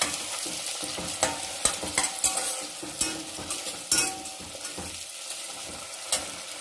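Tomatoes frying slowly over a low flame for soya pulao, with a soft steady sizzle broken by repeated scraping stirs of a spoon against the pan, close and moderately loud, with no talking.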